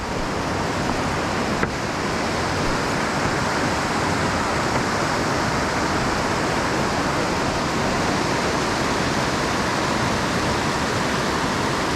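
Rushing water where Cucumber Run rapids pour into the Youghiogheny River at Ohiopyle, a steady, dense roar of whitewater filling the whole stretch without pause, fairly close and loud, with no voices.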